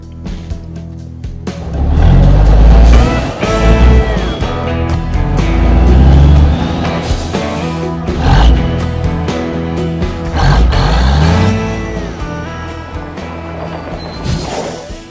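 Peterbilt 379 big rig truck engine cranking and firing up at a truck auction, a loud, deep rumbling roar that swells and revs in several surges over about fifteen seconds, close by.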